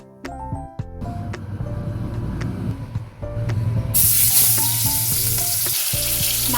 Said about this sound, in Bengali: মাছের মধ্যে দিয়ে দিচ্ছি নুন হলুদ মাখিয়ে মাছটা ভেজে নিচ্ছি